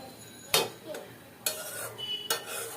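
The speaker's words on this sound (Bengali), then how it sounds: "অল্প তেল দিয়ে ভাজার চেষ্টা করছি।" Aloo paratha shallow-frying in a little oil in a wok, with a soft steady sizzle broken by three sharp scraping spatula strokes against the pan.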